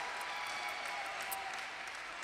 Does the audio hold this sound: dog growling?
no